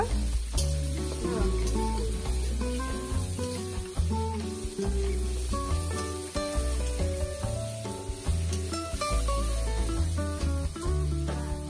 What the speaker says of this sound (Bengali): মাংস রান্না হচ্ছে।